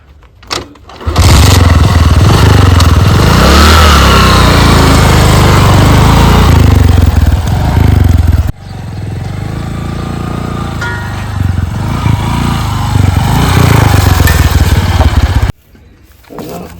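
A guest's motorcycle engine starts, then runs loud and close. It drops to a steadier idle partway through, rises again, and cuts out near the end.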